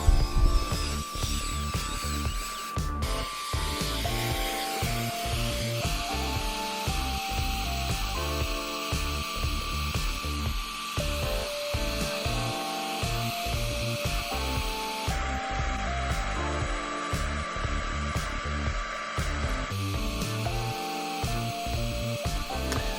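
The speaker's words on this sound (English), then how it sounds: "then we agitate it with our drill brush attachment, get everything nice and loosened up" A cordless drill fitted with a brush attachment scrubs the carpet of a filthy Subaru, whirring steadily and close with a continuous motor drone and brushing texture throughout, no voices.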